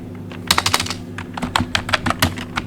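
Keys clack on a computer keyboard while an SQL create-table command is typed, a quick irregular run of close, crisp taps with a steady low hum beneath.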